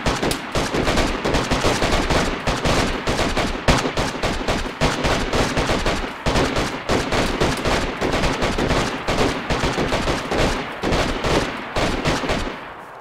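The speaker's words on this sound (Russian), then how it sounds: "Я бегу, ты видишь, они как стреляют" Dense, sustained gunfire from AI bots in DayZ, rapid close bursts and overlapping shots rattling continuously and loudly without a break.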